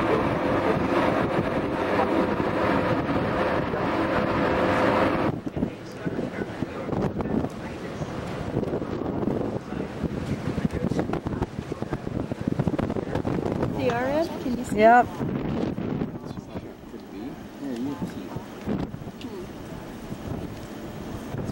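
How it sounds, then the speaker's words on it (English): Strong wind buffeting the microphone on a boat near Valdez, Alaska, a loud continuous roar that eases after a few seconds, with brief speech and a short voice heard over the gusts. "It's really windy."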